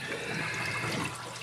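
Water bubbling and churning in the sump of an aquarium algae scrubber, a dense continuous gurgling wash that is steady and fairly loud up close, with no talking.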